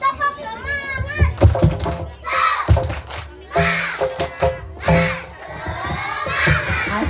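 A class of young schoolchildren shouts rhythmic team chants and yells together in a school yell contest, loud and close, with bursts of group shouting and cheering in a call-and-response pattern.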